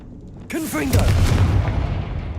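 A Confringo blasting curse exploding in Hogwarts Legacy, a sudden loud boom that bursts out right after a brief voice and rumbles on, gradually fading.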